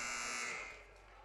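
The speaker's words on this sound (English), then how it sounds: "And there's the buzzer." A basketball halftime buzzer at a Hobart game sounds one loud, steady electronic tone that holds for about half a second, then rings off and fades.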